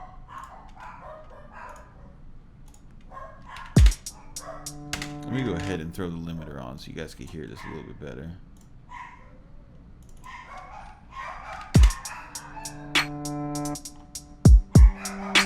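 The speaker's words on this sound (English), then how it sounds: "My dogs are going fucking nuts" Dogs bark and whimper indoors in a home music studio, with a few sharp, loud barks rising over a programmed hi-hat beat and someone talking.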